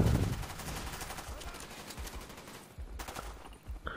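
Rapid bursts of submachine gun fire from Call of Duty: Black Ops, the Skorpion, crackle in sustained automatic strings with short breaks, under a player's voice talking over the game.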